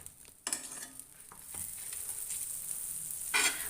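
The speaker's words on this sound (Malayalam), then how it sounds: "ഒരു പാൻ അടുപ്പത്ത് വെച്ച് നമുക്ക് അതിലേക്ക് കുറച്ച് ബട്ടർ ഇട്ട് കൊടുക്കാം." Butter melts and sizzles in a hot pan on the stove, a soft continuous hiss with a few light clicks and bumps, close but quiet.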